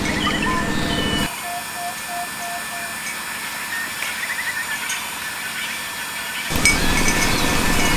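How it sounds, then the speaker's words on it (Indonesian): An electric pump inflates a NeoAir XTherm sleeping pad with a steady, even droning hum lasting roughly five seconds before it stops. "ini sudah kita isi anginnya pakai pom elektrik"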